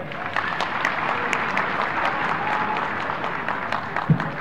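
A crowd in a pandal at a public rally in Meerut applauds the chief minister, with continuous dense clapping and a sharp thump near the end.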